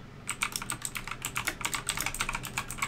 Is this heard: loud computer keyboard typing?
yes